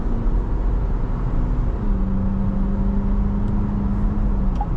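An MG Majestor cruising on a highway at 120 km/h, a steady loud cabin drone of road and engine noise with a faint sustained hum, no talking.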